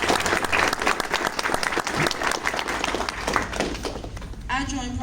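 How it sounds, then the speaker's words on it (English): An audience claps and applauds steadily throughout, a dense patter of many hands with some voices mixed in. "so we should give them a round of applause"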